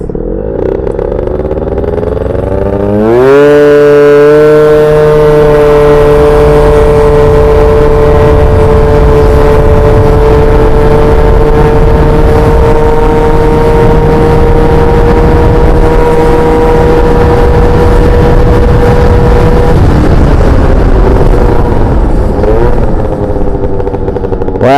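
Yamaha Jog scooter engine revving up sharply from idle and holding a loud, high, steady whine close by as it accelerates, then easing off toward the end.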